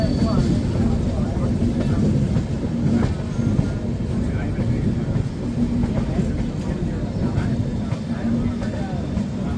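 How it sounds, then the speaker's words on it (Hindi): A goods train rolls steadily past near a rail junction, heard from on board a moving passenger express, with a continuous low rumble and the clatter of the wheels. A voice speaks over it. "ये गुड्स ट्रेन आ रही है वहाँ से।"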